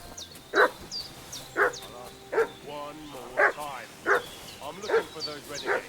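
A dog in Kingdom Come: Deliverance II barks repeatedly in a steady rhythm, seven or eight evenly spaced woofs at moderate distance, with faint high bird chirps over a low ambient background.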